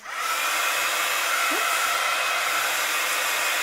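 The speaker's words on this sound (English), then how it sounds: "just get my heat gun to give this a blast" A heat gun blowing hot air over a craft piece, a loud, steady, continuous whoosh that holds unbroken from start to finish with no voices.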